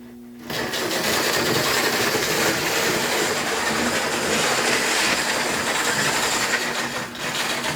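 An old toy train rattles and whirs steadily along its track, starting abruptly and running loud and continuous before easing slightly near the end.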